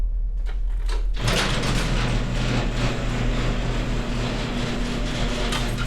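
A heavy jail cell sliding door rolls and clanks shut with a sharp onset, followed by a steady low mechanical hum and room rumble, close and loud with no talking.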